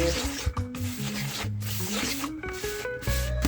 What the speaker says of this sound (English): I'm gonna mix my sugar with my orange zest.